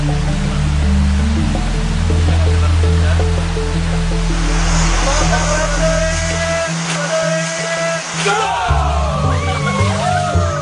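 River water rushes and splashes steadily in a village stream at Aik Berik, Lombok, a loud continuous wash with music and voices over it.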